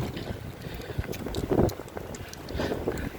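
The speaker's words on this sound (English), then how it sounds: "Where'd this wind come from?" Blizzard wind in Kanata, Ottawa, in December gusts against the microphone outdoors, a steady low roar that swells and eases, with faint clatter in the background.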